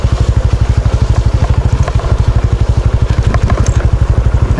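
Motorcycle engine thumping in a steady, rapid pulse while riding over a rough, muddy and rocky dirt road, loud and close with occasional clatter from the bumpy surface.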